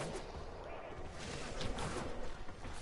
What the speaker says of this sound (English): Don't hit the red containers. As you would think, they explode.